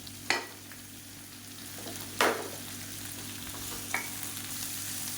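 Chopped tomato and tamarind sauté in a pan for chutney, a steady soft sizzle punctuated by three sharp scrapes or clinks of a stirring spoon.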